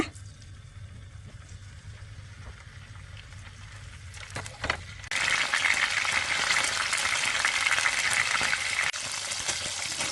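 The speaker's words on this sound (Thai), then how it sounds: "ขั้นตอนต่อไปค่ะจะนำเต้าหู้มาทอดค่ะ ทอดเต้าหู้ให้เขามีความอร่อยมากยิ่งขึ้น" Tofu drops into hot oil in a frying pan for a vegetarian dish. After a few seconds of quiet handling, a loud, bright sizzle bursts up and keeps crackling steadily, close by.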